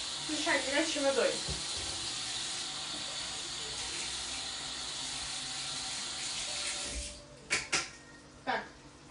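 Hot water runs from a kitchen tap in a steady hissing stream, with faint clatter early on and a few sharp knocks and bangs near the end as the flow cuts off.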